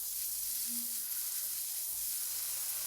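Minced garlic cooking over low heat in a pan with meat and pasta gives a faint, steady, soft hiss throughout.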